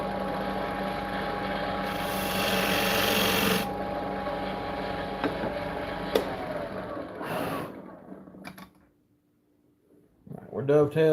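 Hand tool rasping and scraping a wooden mortise to deepen it, a steady coarse rubbing that swells loudest early on, then fades into near quiet before a few sharp knocks at the end.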